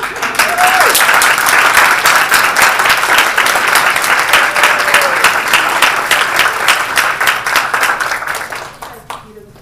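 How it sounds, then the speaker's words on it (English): An audience at a college study-abroad student presentation claps steadily for several seconds, a dense, loud round of applause that tapers off near the end. "let's give a round of applause"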